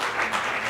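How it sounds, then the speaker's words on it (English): Audience applause for a panel of speakers at a conference session, a brief burst of dense clapping from a seated crowd. "let's put a round of applause together for these folks"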